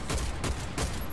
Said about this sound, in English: was that guy shooting?